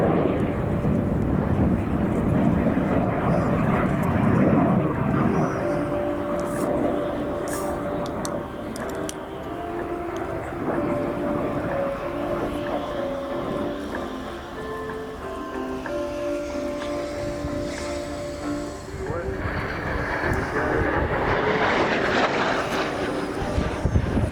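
An airplane flying at the Royal International Air Tattoo 2025 air show, a steady loud engine roar throughout with a faint tonal whine and a brief surge near the end.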